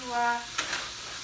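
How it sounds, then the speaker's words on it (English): Vegetables sizzle in a stir fry, a steady hissing fry with a brief utensil stir, partly under a voice at the start. "Basic stir fry."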